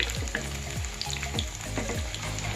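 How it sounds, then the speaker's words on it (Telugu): Chicken pakoda fries in oil on a low flame, giving a continuous close bubbling sizzle with a soft, regular pulsing rhythm. "రెండు వైపులా గోల్డ్ కలర్లోకి వచ్చిందాకా వేయించుకోవాలి. లో ఫ్లేమ్లో ఉంచి వేయించుకుంటే ఇది టేస్టీగా ఉంటుంది."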